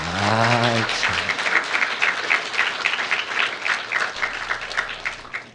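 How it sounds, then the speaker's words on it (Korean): A church congregation breaks into sustained applause during a Sunday sermon, many hands clapping together in a dense, even wash, after a brief voice at the start. "이럴 때는 박수 한번 주십시다."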